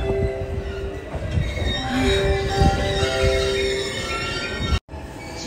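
A Japanese Shinkansen bullet train passes at a station, a loud, close rush of rail noise with squealing wheel tones and sustained whine that drops out suddenly near the end.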